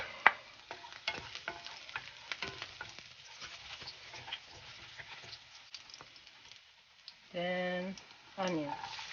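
Garlic frying in a pan for fried rice, a soft, faint sizzle with scattered scraping and stirring clicks, with a voice speaking briefly near the end.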